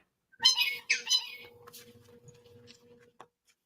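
A pet bird squawks twice in sharp bursts close by, followed by softer chirps and faint clicks, with a quiet hum in the background.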